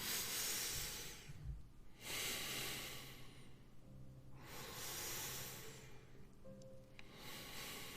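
Slow meditative breathing, with long broadband breaths in and out alternating with quiet pauses, close and steady, with no talking.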